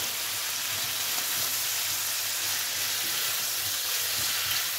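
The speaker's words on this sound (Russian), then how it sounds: "с чесноком и имбирем обжарить" Ginger and garlic sizzle and fry steadily in a hot pan, a dense, even crackle that stays close and constant throughout, with no talking.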